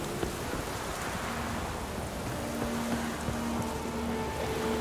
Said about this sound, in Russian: здесь опять дождь собирается